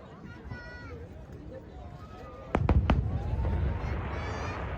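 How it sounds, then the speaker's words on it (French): Three sharp fireworks bangs crack in quick succession at a moderate distance in Montreal, followed by a rumbling wash, with crowd chatter and voices throughout. "C'est une partie des feux d'artifice."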